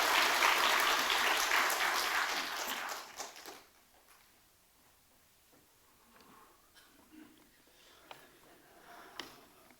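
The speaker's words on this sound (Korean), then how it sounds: "그래도 잘 하시라고 우리 박수 한번 이렇게 하시도록 하겠습니다." Church congregation applauding a couple about to give a testimony, a loud burst of clapping lasting about three seconds that fades into quiet room noise with faint rustles.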